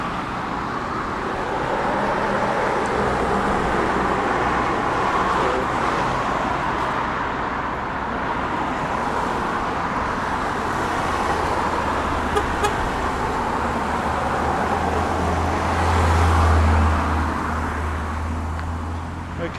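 Road traffic heard while walking in the Colne Valley: a continuous roadway rumble of cars passing, with a brief horn toot partway through and a deeper vehicle swell near the end, under faint voices.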